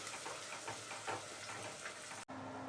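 Onion, curry leaves and chillies sautéing in a pan for tomato bath, a dense steady sizzle with soft stirring scrapes, cut off abruptly near the end by a brief silence and a faint hum.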